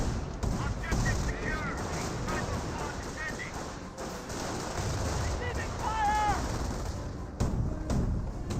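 Battle gunfire in the video game Company of Heroes, with scattered rifle and machine-gun shots and distant blasts running under continuous commentary.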